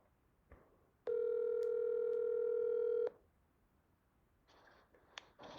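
A telephone line gives a steady, loud dial tone for about two seconds while a call is placed, then cuts off, followed by faint rustling and a few soft clicks.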